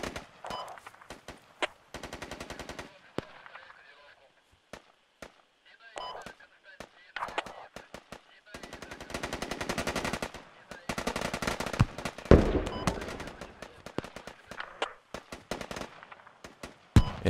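Automatic gunfire rattles in the tactical shooter game Squad: repeated machine-gun bursts of varying length, some sharp and close, others softer and more distant, separated by brief quiet gaps.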